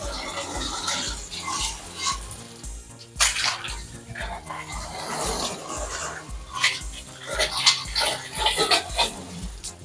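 Water from a garden hose pipe sprays against glass windows during outdoor cleaning, a steady hissing splash with some clattering, rising and falling in intensity throughout, with no talking.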